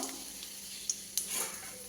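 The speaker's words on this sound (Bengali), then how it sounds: "এই মাছ ভাজা তেলের মধ্যে একটু কালো জিরে আর একটা তেজপাতা ফোড়ন দেবো।" Black cumin seeds and a bay leaf tempering in hot oil left over from frying fish, a faint steady sizzle with a couple of soft clinks, close and quiet, no talking.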